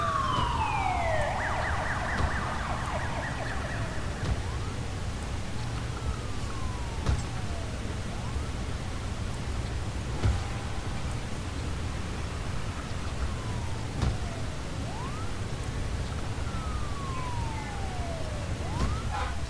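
Wailing ambulance sirens in the city-building game SimCity, several sweeping tones rising and falling over a steady hum of traffic and rain-like noise, with no talking.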